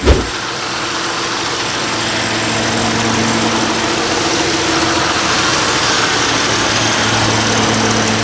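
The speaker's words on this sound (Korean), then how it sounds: "바로 이 차량 엔진 소리부터 한번 들려드릴게요" A Ford Taurus engine turns over and settles into a steady, close idle with a low hum and faint vibration throughout, no voices.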